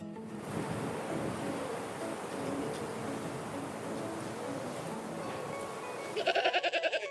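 A goat bleats in a video game, one short wavering cry near the end after a long stretch of rushing, surf-like background noise.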